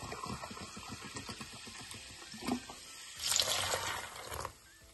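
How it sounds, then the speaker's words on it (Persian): Faint kitchen clatter and small knocks, then water pours briefly into a bowl of fish pakora batter with a close, gurgling splash before stopping. "ابتدا ما 1 گلاس آب می‌ریزیم"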